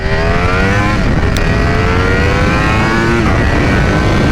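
A 2021 Ducati V4R superbike engine revs loud and close as the throttle is rolled on, a steady high-pitched howl climbing in pitch, easing back briefly and rising again.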